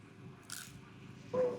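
A bite into crunchy Filipino pork lumpia at a street food festival: a brief crisp crunch, then a second louder bite close to the mic, against quiet background murmur.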